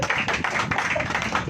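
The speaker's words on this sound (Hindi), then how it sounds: "आप ताली बजाइए।" A church congregation clapping hands together, a quick steady patter of overlapping claps filling a short burst, fairly loud and close with no voices over it.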